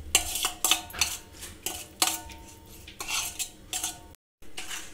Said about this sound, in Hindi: अब हम इन सबको अच्छी तरीके से मिक्स कर लेंगे।